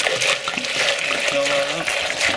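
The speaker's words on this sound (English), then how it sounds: "We got fresh water coming on." Fresh water runs steadily into a container in a hydroponic plant-growing setup, a close, continuous splashing rush.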